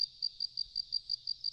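Crickets chirp steadily in a rhythmic series of about nine evenly spaced, high, faint pulses against near silence, added as a comedic sound effect.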